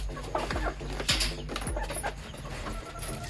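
Chickens clucking in a poultry shed during vaccination, several close calls and short squawks in an irregular rhythm over a steady low hum, with no talk.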